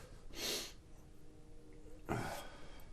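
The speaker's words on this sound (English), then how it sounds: "Sniffles." Two quick, breathy sniffs through the nose, spaced about a second and a half apart, soft and close.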